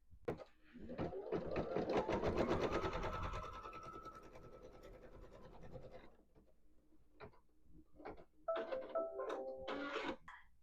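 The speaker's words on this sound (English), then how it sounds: "So now I will run the first stitch, which is the trimming and placement line." An embroidery sewing machine stitches a trimming and placement line on fabric, a steady close whirring needle rhythm that swells and fades over several seconds, followed by a few quiet clicks and short electronic beeps.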